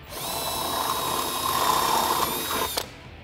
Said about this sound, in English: We're gonna take our 25/64 bit and we're gonna drill that hole through